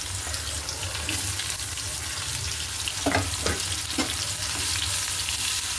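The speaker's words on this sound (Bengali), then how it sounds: "কড়াইতে তেল দিয়ে দিয়েছি তেল গরম হয়ে গেছে আর এই যে উচ্ছেগুলো এতে ভেজা করে নিই" Bitter gourd pieces frying in hot oil in a kadai, a continuous close sizzle and crackle with a few brief scraping knocks from stirring midway.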